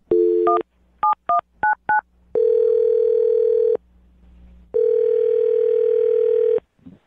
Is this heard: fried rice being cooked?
no